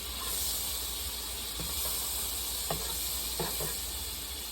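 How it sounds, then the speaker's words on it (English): Butter sizzling in a pan on medium-low heat while browning, a steady soft hiss with occasional faint pops and crackles, heard alone without talk. "So I have this on medium-low, and this butter is already turning brown."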